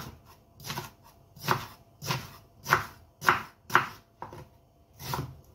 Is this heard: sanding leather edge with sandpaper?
no